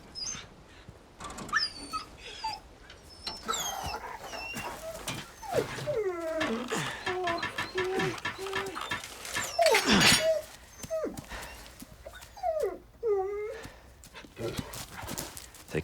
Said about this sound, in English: They said you would not save the dog in RE4 Remake.